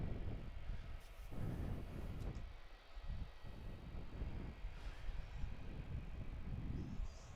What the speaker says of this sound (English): that's Qantas 95 now, rolling down runway 16 off to LAX